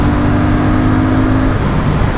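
Royal Enfield Super Meteor 650 motorcycle engine at full throttle, a loud, close, sustained low twin-cylinder drone with a steady rumble and no talking.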